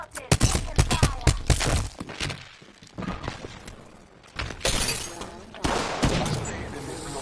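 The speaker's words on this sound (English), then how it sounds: "Shots fired at me." Gunshots aimed at the player in a video game, arriving as close, loud bursts of rapid cracks with thuds and impacts, broken by short lulls before more volleys, under occasional talk.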